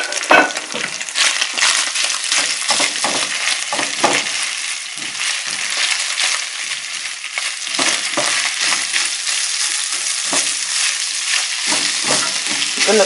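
Onions, ginger and garlic frying in a pan for a Ghanaian meat pie filling, a loud, continuous close-up sizzle with irregular crackling bursts and stirring.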